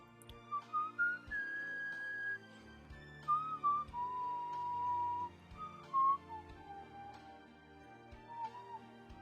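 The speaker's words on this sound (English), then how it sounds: "It goes a little too low for me in whistling." A person whistles a slow, low tune alone, the notes drifting and sliding across several sustained phrases with short pauses between them, fairly quiet and close.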